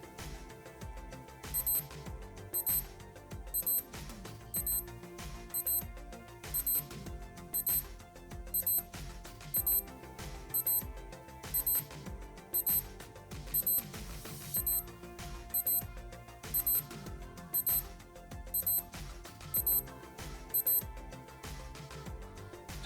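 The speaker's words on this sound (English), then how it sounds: "So we get a 20-second 2-beep alarm for that." Casio IA-1000 flip-top data bank watch alarm going off with a 2-beep pattern, tiny high-pitched double beeps repeating at a steady rhythm for about twenty seconds over a background hum.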